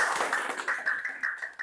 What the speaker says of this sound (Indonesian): Tepuk tangan buat Mbak Ainun.